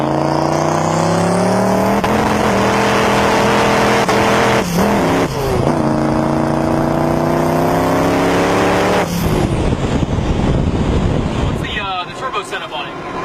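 A 2006 Chevrolet Duramax LBZ diesel pickup with a Precision turbo, aftermarket intercooler and blow-off valves and wastegates revs hard and steadily during a burnout. It stays loud and close throughout and rises near the end, with voices over it.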